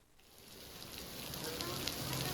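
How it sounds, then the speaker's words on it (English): Rain patters on a chapel roof as a soft, dense hiss of drops that slowly swells, fairly faint and continuous. "the pitter-patter of the rain against the roof of the chapel"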